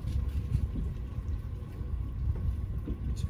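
A yacht's engine running as a low, rumbling drone on board, steady with slight fluctuations and some wind buffeting, fairly close and without talk.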